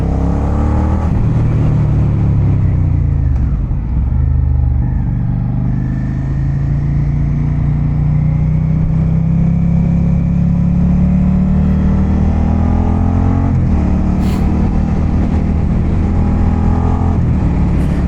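A 2023 Suzuki SV650 motorcycle engine revs hard and close for a long stretch, its loud droning pitch rising and falling, with a few sharp pops from backfires near the end.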